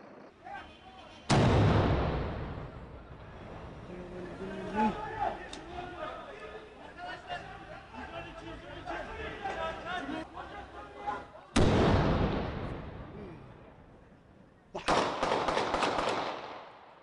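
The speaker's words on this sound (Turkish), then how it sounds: "Ardından dört patlama sesi duyuluyor." Loud bomb blasts burst out four times, sharp and heavy, over a constant rumble of voices and crowd noise in between.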